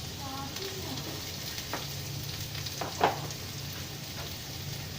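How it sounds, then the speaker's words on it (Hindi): Onions frying in ghee for an aloo anday salan, a low continuous sizzle with a few faint pops and one louder clink near the middle, moderately close and fairly quiet. "प्याज को पहले हम फ्राई करेंगे।"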